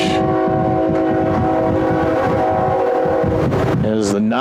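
The 9:20 train rumbles past near a baseball field in Milbank, with a steady, loud roll of wheels and a long horn blast, and a voice talks over it.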